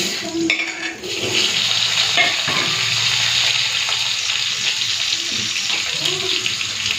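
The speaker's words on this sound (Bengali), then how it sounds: "তেলটা গরম হয়ে গেছে এখন আলুগুলো দিয়ে দিচ্ছি" Potatoes fry in hot fish-frying oil in an iron wok, giving a steady, close, hissing sizzle that runs without pause, with brief clinks and faint voices beneath.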